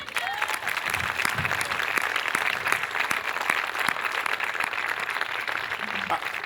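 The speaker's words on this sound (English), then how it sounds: "if you guys would all give Becca Murphy a round of applause for me" An audience applauding at a military retirement ceremony, steady sustained clapping from a sizable crowd filling the whole stretch at an even, fairly loud level.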